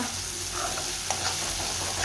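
Cumin seeds and red chilli spice masala sizzling in hot frying oil, a steady close crackle with small stirring scrapes throughout, no voices.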